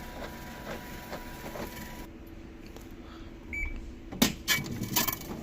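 A Panasonic drum washing machine powering up with a faulty belt, giving a loud scraping, rattling burst at start-up that rises over a steady mechanical hum and ends in sharp bursts.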